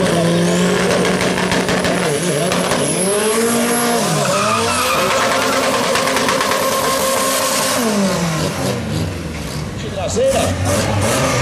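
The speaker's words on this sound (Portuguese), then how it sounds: "Ângelo Chonardi de Opala contra Douglas Schmitz, Henrique Saldanha de Fusco" Chevette, Opala and Fusca race cars speed through a street course, with engines revving, gears shifting and repeated loud tire squeals close by, while an announcer talks over the action.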